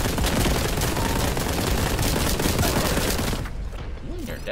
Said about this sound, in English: You and your dadgum grenades.